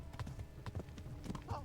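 Horse hooves clip-clop in a medieval video game, a quick uneven patter of soft thuds at a trot, fairly close and moderately quiet.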